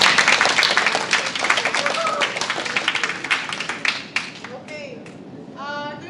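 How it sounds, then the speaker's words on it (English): An audience claps for Monica and Miguel after an Afro-Peruvian dance performance at a Diversity Week event, a busy burst of hand claps that thins out toward the end as voices begin speaking over it. "So I would like for you to give a round of applause"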